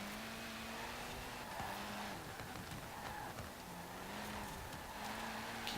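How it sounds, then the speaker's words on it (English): Rally car engine in Forza Horizon 4, oversteering through a drift, droning steadily at a constant pitch with slight revving swells and faint tyre scrub throughout, loud and continuous with no talk. "Keep this oversteering rally car under control and we'll catch up."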